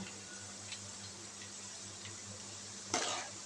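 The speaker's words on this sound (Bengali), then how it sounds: "ছোটো ছোটো হয়েছে, এটাকে 2-3 মিনিট মতো ভেজে নেব।" Tiny motichur boondi frying in hot oil over a medium flame, a faint steady sizzle with low bubbling and a brief louder stir near the end.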